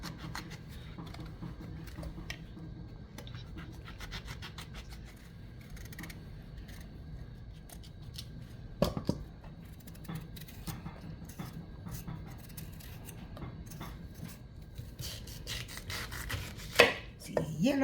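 A knife chops through breadfruit on a board in a steady run of crisp, close taps and thunks that continue for a long stretch, with a few louder knocks and no talking.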